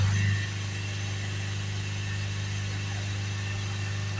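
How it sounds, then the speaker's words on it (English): Ford Transit diesel engine held steadily at 3000 RPM, a constant, close drone with a strong low hum that stays even throughout, no talking. "So if we hold the revs up to 3000 RPM"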